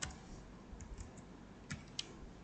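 Quiet, close computer keyboard typing while entering plus and enter in an Excel spreadsheet: a few soft scattered key taps with two sharper clicks near the end, over faint room hiss, no talk.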